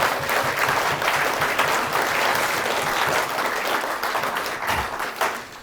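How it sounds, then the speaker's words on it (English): An audience at a Burns Night event in Perth breaks into a hearty round of applause, dense and close-sounding, holding steady for several seconds before thinning out near the end. "So a round of applause for Neil Hanvey there."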